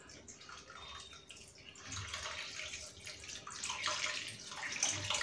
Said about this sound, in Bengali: জলটা দিয়ে দেবো এবারে